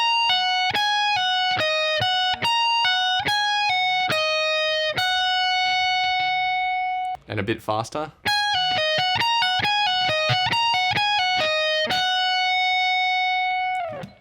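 An electric guitar plays the solo run from a song, a quick series of bright picked notes with a sustained bend in the middle, and someone speaks briefly partway through.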